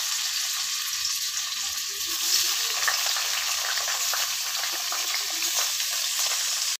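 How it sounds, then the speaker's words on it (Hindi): Onion frying in a pan for a stuffed capsicum filling gives a steady, moderately loud hiss of oil that stays even and continuous throughout, close by and with no talking. "प्याज डाल रहे हैं"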